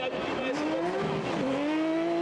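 A race car slides fully sideways on an icy Trophée Andros circuit at Isola 2000, its engine rising and falling loudly and steadily close by throughout, with faint commentary voices underneath.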